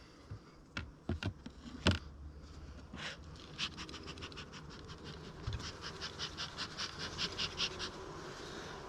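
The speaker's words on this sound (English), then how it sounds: "So I'm going to crack the lid now." Honey bees buzz close by as a beehive lid is cracked open, a few sharp scrapes and knocks of the lid followed by a building, wavering hum of many bees.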